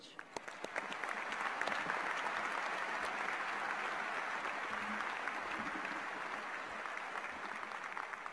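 Sustained audience applause greets the spring 2019 convocation speaker, Dr. Connie Mariano, swelling within a second and holding as steady, dense clapping from a large crowd for several seconds.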